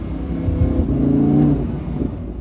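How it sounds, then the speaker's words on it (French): A car engine revs up under acceleration, a loud, close, rising drone with no talk. "On va faire une petite accélération là."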